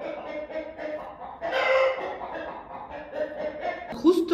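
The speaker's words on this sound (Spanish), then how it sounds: "ya no me dejaron hablar mis gallinas" Backyard hens cluck and squawk in a busy, overlapping chorus, with a louder burst in the middle and a sharp squawk near the end, fairly close by.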